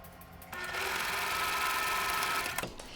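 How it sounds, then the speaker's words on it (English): A domestic sewing machine chain piecing quilt block pairs hums steadily and close up for about two seconds, starting abruptly and then stopping, with quiet room sound before and after. "Slide the next pair right up under the needle and continue sewing."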